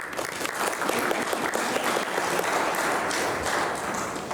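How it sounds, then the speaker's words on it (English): Continuous, dense applause fills a community meeting room, steady and moderately loud, with no voices over it. "So please give yourself a round of applause."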